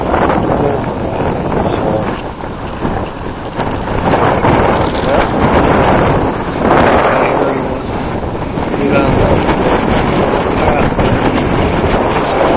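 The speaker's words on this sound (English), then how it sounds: "It's not cold, but we got wind." Strong gusting wind at Lake Lowell, Idaho, on a cool windy day, loud buffeting roar and rumble against the microphone, rising and falling in waves throughout.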